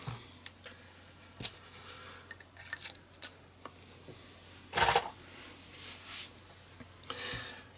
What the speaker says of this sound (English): cut the sponge into 8s